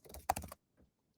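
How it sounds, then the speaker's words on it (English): Brief burst of quick keystrokes on a computer keyboard while entering a password in a web app builder, a faint close clatter followed by one lone tap and silence. "let me just make sure I'm typing that in correctly"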